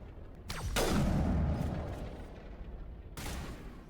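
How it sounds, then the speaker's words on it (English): Bursts of gunfire in the video game Mass Effect, a loud rattling volley that swells and fades over a couple of seconds, then a second sharp burst near the end, close and dense. "Okay, I need you to stop shooting me."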